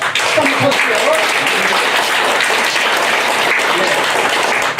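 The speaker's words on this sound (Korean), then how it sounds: "모든 분들에게 우리가 큰 박수로 또보답 합시다" Audience applause at a Korean book launch event for forced-labor victims' family testimonies, a steady dense clapping from a crowd filling the whole stretch, fairly loud and even, with some voices mixed in.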